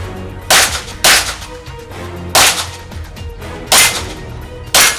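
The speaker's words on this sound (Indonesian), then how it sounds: "Kategori tembak reaksi." Sharp gunshots at a reaction shooting sport event, five loud cracks spaced about a second apart over a steady background hum.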